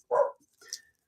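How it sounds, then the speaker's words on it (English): A single short, loud dog bark followed by a softer yip or whine, close by and brief. "Sorry about the dog barking."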